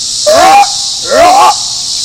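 A person vocally imitates a male Sasquatch mating call with two rising, wailing hoots separated by a short pause, over a steady background hiss.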